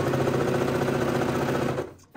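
A sewing machine stitching satin fabric for a scrunchie, a loud close rapid steady mechanical whir that runs for about two seconds, then cuts off abruptly.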